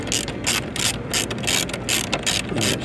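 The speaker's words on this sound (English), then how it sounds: "I like to just kind of snug these up a little at a time." A hand ratchet snugs up bolts while a trailer hitch is fitted to a 2024 Mercedes GT 63 AMG coupe, sounding as rapid, loud, close bursts of clicking in repeated strokes with short pauses between them, no voices.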